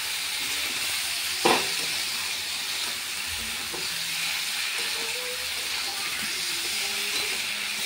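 Spices being fried with bottle gourd in a pan, with salt and turmeric added, give a steady low sizzle with faint stirring scrapes and one brief clack, no talk.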